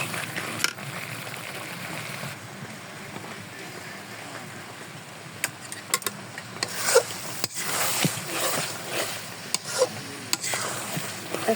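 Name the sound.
stirring beef and potato curry in a pan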